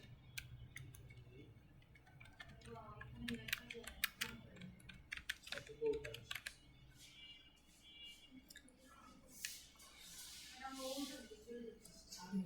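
Computer keys clack in quick irregular bursts as a tagline is typed for a packaging design, light close taps with a few pauses, under soft background noise and occasional low murmurs.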